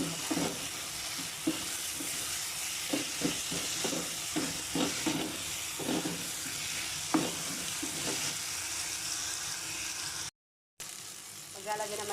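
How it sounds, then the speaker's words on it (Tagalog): Curry leaves, coriander and chili frying in a pan for a fish biryani, a steady close sizzle and hiss with occasional stirring knocks and scrapes, running continuously with a brief cut near the end. "isinunod ko na rin yung curry leaves at saka coriander at siling"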